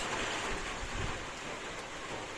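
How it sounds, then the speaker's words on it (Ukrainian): Steady rain mixed with small hail falls outdoors in a yard, a continuous broadband hiss with faint low rumbles and no voices. "Дощ з градиком."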